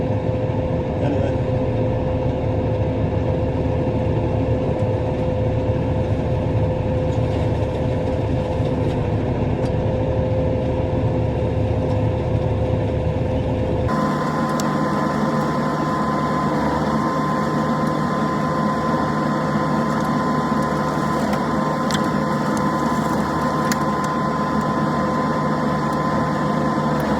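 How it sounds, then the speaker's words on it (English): Tractor running an offset flail mower against a hedge, a loud steady engine drone with a constant whine that shifts abruptly in pitch and tone partway through, continuous and close. "Every time you turn the tractor into the hedge, the mower comes away from the hedge."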